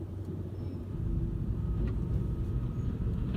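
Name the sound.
car pulling away from the curb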